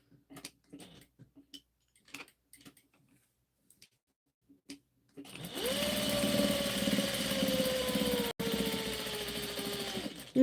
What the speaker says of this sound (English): Now I'm not sewing all the way around here, basting it around the corners